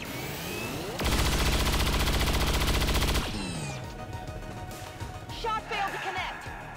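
Video game gunfire from XCOM 2: War of the Chosen, a loud sustained burst of rapid automatic shots for about two seconds, followed by lingering mechanical and effect sounds as a voice talks over parts of it.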